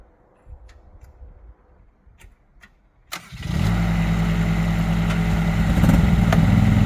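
A 1.2 ton mini excavator engine cranks over and fires after a few seconds of quiet background, catching at once and settling into a loud, close, steady idle that deepens slightly as it runs.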